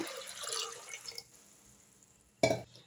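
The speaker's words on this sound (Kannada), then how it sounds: "ಇವಾಗ ನೀರು ಸೇರಿಸ್ತಾ ಇದ್ದೀನಿ" Water being poured into a pressure cooker holding mixed pulses for a village-style sambar, a splashing pour that fades out, then a single short clunk or splash near the end.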